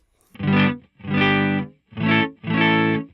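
Four clean electric guitar chords strummed in a steady pattern through an amplifier, each ringing briefly with slight grit before stopping.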